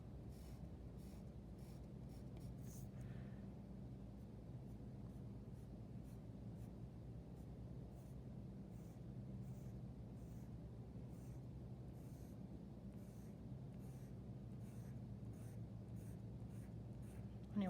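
Graphite pencil shading on white paper, a steady scratchy rubbing of repeated strokes that darken an area, close and continuous under a soft, low background murmur.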